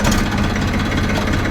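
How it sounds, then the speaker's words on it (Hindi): A farm tractor hauling a load of sugarcane runs close and loud, its engine giving a steady throbbing chug with no pauses. "करते हैं ट्रैक्टर स्टार्ट"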